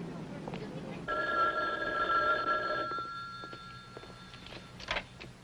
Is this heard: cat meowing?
no